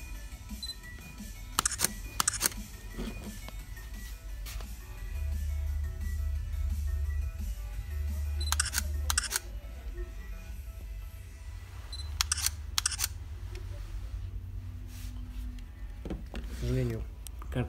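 A digital camera's shutter clicks sharply several times in pairs, separated by pauses, and its flash whines as it recharges. Someone talks at length between the shots.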